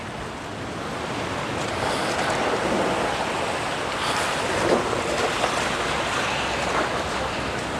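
Strong wind roars across a stormy sea at the coast, with surf crashing in a dense, continuous wash of noise and gusts buffeting the microphone throughout.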